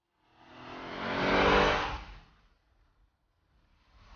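An Alfa Romeo GTV6 coupe passes by, swelling from quiet to a peak and fading away within a couple of seconds, with another faint approach starting at the end.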